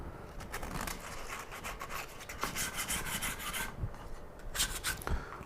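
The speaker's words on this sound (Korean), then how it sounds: "계속 사포를 하면서 수시로 만져보는 게 좋을 거라고 저는 생각합니다." Sandpaper rubbed by hand across a small wooden cutting board, a rasping scrape in repeated strokes with brief pauses, close and fairly loud with no talk.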